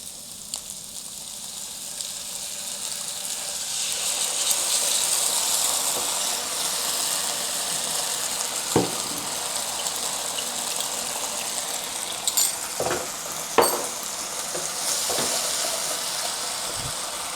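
Chopped garlic stir-fried with stir-fry sauce over high heat for ginger garlic shrimp, a loud steady hissing sizzle that swells as the sauce goes in, broken by a few sharp spatula clicks against the wok.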